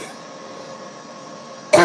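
A single short, sharp cough bursts close to the microphone right at the end, after a steady low background hum.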